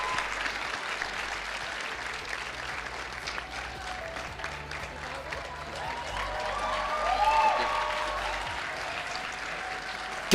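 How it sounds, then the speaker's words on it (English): Audience applause for award winners Yeni AI at a national ICT summit, a steady wash of clapping that swells briefly near the end, with some faint voices mixed in. "Can we please give them a round of applause?"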